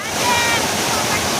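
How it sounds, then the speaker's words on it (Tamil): Steady roaring rush of water from Pulimedu waterfall on a hot, sunny day, a dense continuous wash that fills the whole clip at close range. "அருவி சத்தம், அருவியோட தண்ணி சத்தம் வந்து ரொம்ப கேட்குது."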